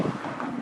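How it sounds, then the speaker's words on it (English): Gusty Santa Ana wind buffets an outdoor microphone in Santa Ana, a steady rumbling roar that stays loud and unbroken with no voices. "See, it's kind of windy. It's a Santa Ana wind."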